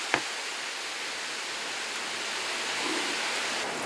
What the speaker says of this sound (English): I gotta close my garage door because the rain is starting to come in here.